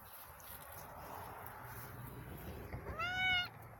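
A cat meows once, clearly and fairly close, near the end of a quiet outdoor garden scene with soft background noise.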